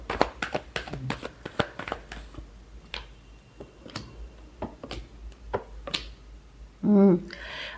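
A deck of tarot cards is shuffled by hand close up, giving crisp, uneven riffles and taps in quick bursts, with a short tonal sound near the end.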